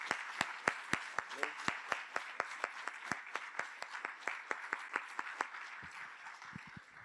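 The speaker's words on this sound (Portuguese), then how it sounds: "Então, vamos dar um forte aplauso para o nosso Deus nessa manhã" A church congregation claps together during a morning service, a sharp rhythmic beat of hands ringing out fairly close, with softer scattered claps trailing off near the end.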